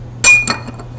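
A damped crankshaft coupling gear from an Ariel Square Four motorcycle engine tapped, giving a short metallic clink and a softer second knock, both dying away almost at once.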